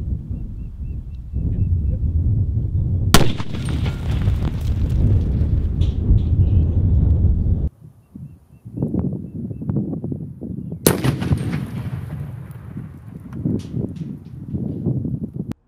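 A shaped charge made from a Coke bottle detonates at an outdoor test site, a sudden deep boom that rolls on as a long rumbling roar, followed by a second sharp blast and more heavy rumble, loud and close.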